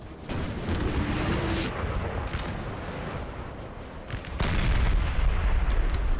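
Artillery fire in the video game Napoleon Total War, a battlefield of heavy booming cannon shots and rumbling blasts, loud and layered, with a stronger barrage swelling near the end.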